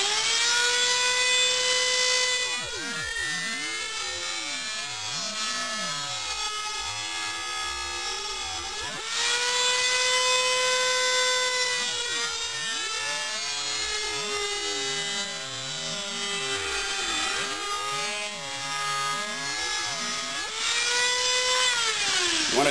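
An abrasive grinder cuts an elliptical fuller into a blade, giving a steady high whine with shifting harmonic tones as pressure changes; the pitch sags and rises in repeated passes, close and loud, without talk.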